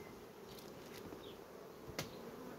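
Honeybees buzz around an open nucleus hive during a check on queen cells, a soft steady drone with a brief sharper flyby near the end.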